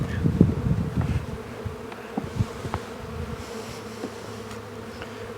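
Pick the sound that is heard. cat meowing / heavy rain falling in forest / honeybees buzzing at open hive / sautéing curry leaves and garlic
honeybees buzzing at open hive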